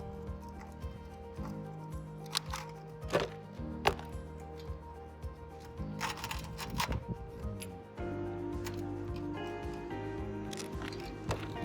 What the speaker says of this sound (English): just cutting the aluminum away